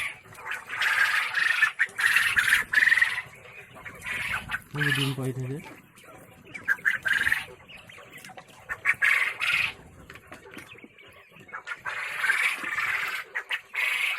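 Quails at a farm in Golaghat, Assam, give short repeated chirps and calls in clustered bursts while someone talks over them and between them.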